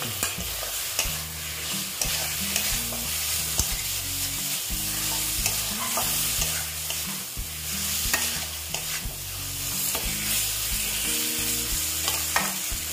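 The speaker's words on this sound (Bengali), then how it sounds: "দিয়ে আলু দিয়ে ভালো মতন আবার কষিয়ে নেব" Potatoes for egg potato curry hiss and sizzle in a pan while being stirred, a steady close frying crackle with a constant low rumbling hum underneath throughout.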